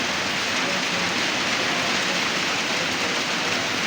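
Heavy rain pours in a dense, unbroken hiss, loud and close, with no pauses or voices.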